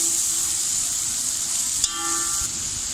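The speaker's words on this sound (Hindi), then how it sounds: "प्याज को अब हम थोड़ा सा सुनहरा कर लेंगे" Chopped medium onions frying in a pan until golden, a steady loud sizzle hissing continuously throughout, with a faint brief tonal whine near the middle and no talking.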